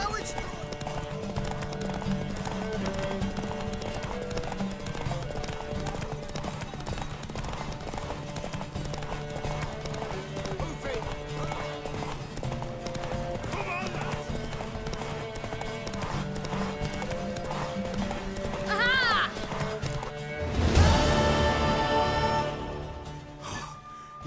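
Horse hooves clip-clop rapidly in a race in The Witcher 3, a steady galloping rhythm under game music, with a louder burst of hoofbeats near the end; voices are heard as well.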